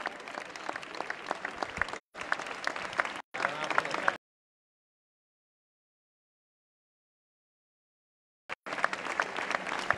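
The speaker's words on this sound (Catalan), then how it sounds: "aplaudiment de tot el poble" Townspeople at a street procession for the patron saint's Virgin applaud in bursts, broken by short gaps and a long silence before the clapping resumes, fairly faint overall.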